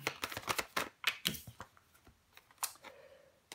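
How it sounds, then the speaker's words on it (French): Tarot cards are laid down and shuffled on a tabletop over the ace of wands, giving a quick run of close, soft slaps and slides, then a brief papery swipe near the end. "Je vais recouvrir l'as de bâton."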